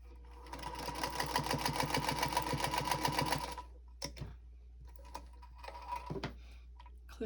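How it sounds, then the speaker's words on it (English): Sewing machine stitching fabric for Christmas napkins, running in a steady rapid mechanical patter for a few seconds before stopping, followed by faint clicks and handling noises. "And then we're just going to stitch that."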